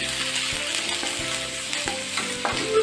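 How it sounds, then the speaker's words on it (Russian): Steady loud sizzling of beef strips frying in hot oil, with a few soft scrapes of stirring at regular intervals. "обжариваю до полной готовности говядины"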